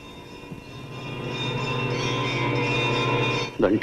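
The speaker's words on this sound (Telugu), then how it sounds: "గుడి గంటలు ఎవరో కొడుతున్నారు" Temple bells ring out at night from a long-abandoned temple, a sustained, steady metallic hum with layered ringing tones that swells gently and ends with a brief soft knock; no voices.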